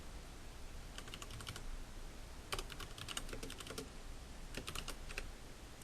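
Ctrl+F5 and then Enter pressed on a computer keyboard: several quick bursts of crisp key clicks in short clusters, close and clear over a faint steady background hum, with no talking.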